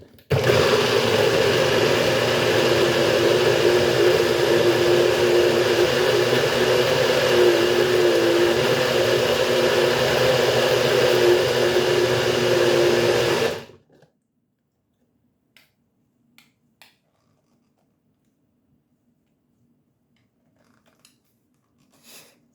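A blender whirs loudly and steadily as it purées a cheesy pasta sauce, running nonstop for about thirteen seconds before cutting off abruptly, followed by a few faint clicks and near silence.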